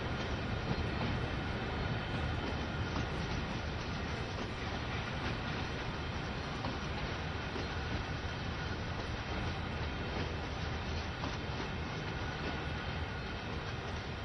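A train in Train Sim World 2 rumbles steadily as it rolls into the sidings, with a continuous broadband rail noise and faint clicking wheels throughout, with no talk.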